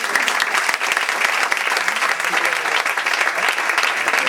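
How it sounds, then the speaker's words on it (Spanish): Dense, steady audience applause at a monologue comedy contest in a café, filling the whole stretch with even clapping and no break. "Manos ahí aplaudir y así."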